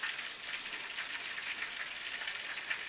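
Pieces of buttermilk-battered chicken fry in a pan of hot oil, giving a steady, dense sizzle with crackling pops throughout, close up and alone with no talking.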